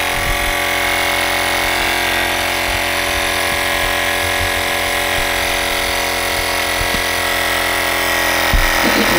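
Sync Wire portable air pump running steadily while inflating a tire through a valve-stem screw connector, a continuous near motor drone with a faint knock near the end.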